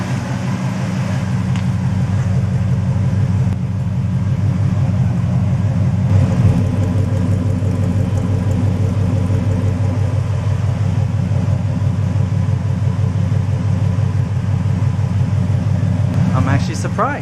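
A 1974 Chevy Nova with a polished stainless Pypes Race Pro exhaust idles steadily, giving a constant, fairly loud low rumble that holds even throughout, with a brief sharper sound near the end.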